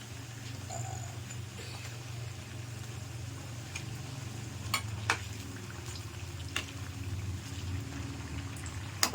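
Wheat flour bondas fry steadily in hot oil, a soft continuous sizzle and bubble with a few faint clinks near the end, no one talking.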